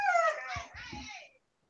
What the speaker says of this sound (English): Something wrong with the doggy